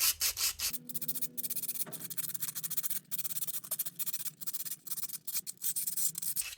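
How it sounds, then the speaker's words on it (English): Sandpaper rubs back and forth over a wooden screen printing loom in quick, rhythmic rasping strokes, close and fairly loud, with short pauses between bursts. "you're just going to take the loom apart into its two pieces and sand all the way through"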